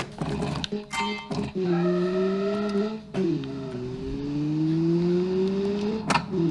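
A rally-style hatchback laps Trial Mountain in a racing game, its engine droning steadily with rising and falling pitch, broken by a couple of sharp shift-like breaks and a brief burst near the end, with no talk.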